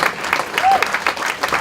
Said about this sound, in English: So just a massive round of applause for Joe.